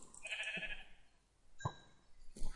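Minecraft sheep bleating in the video game, a drawn-out nasal bleat followed by two shorter clipped calls, fairly close and clear with no talking over it.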